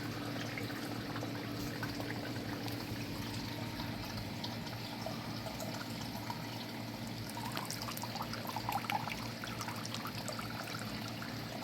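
Water trickles and splashes down onto a filter in a freshwater snail tank, a steady close pouring stream over a low pump hum, continuous and alone without talk.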